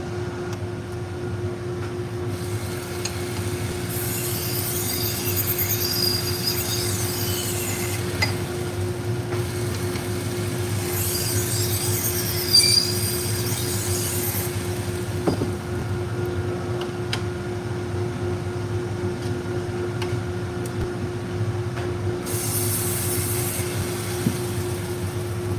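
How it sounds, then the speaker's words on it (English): Dust collection system running in a knife sharpening shop, a steady droning hum with a constant tonal whine, with occasional hissing sharpening bursts over it, continuous and moderately loud. "Sorry about all the background noise. That's my dust collection system."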